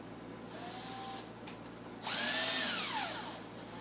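A power drill drives a screw into the top rim of a plant pot for a plant support. A brief, faint whir is followed by a louder burst that rises and falls in pitch as the screw tightens, with no voices.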